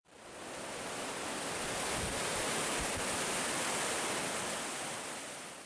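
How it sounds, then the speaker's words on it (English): A roaring mountain river near Dardanelle along California Route 108, heard from a bridge as a dense, steady wash of rushing water that fades in and holds loud and unbroken with no voices. "marveling at the roaring power of the mountain river"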